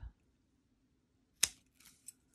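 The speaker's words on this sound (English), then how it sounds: "I'm just going to snip a little piece of foam tape." Scissors snip a small piece of foam tape in one sharp, close cut, followed by a couple of faint rustles and light clicks in an otherwise quiet room.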